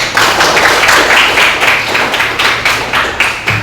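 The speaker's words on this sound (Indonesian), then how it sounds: "tepuk tangan dulu buat" A class of students claps hands together in a schoolroom during a civics lesson, rhythmic bursts of close, loud clapping that pulse in roughly even beats from start to finish.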